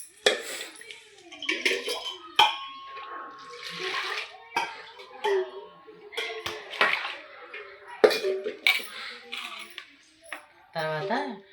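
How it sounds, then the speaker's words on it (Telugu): Soaked urad dal is poured into ragi in a metal vessel in a home kitchen: wet, clattering pours and splashes come in short bursts with pauses between them, close by, and a brief voice is heard near the end. "రాగుల్లో మినపగుండ్లు పోసుకోవాలి"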